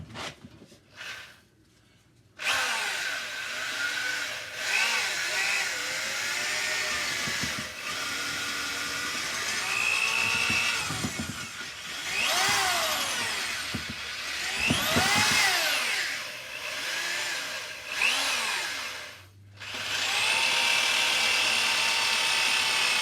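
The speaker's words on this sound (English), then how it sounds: "So now I'm going to go at cleaning head bolt holes." A rotary brush, apparently power-driven, cleans the head bolt holes of a Cat 60 cylinder head with a sustained whirring grind that rises and falls in pitch as it works through each hole, near and loud after a short quiet start.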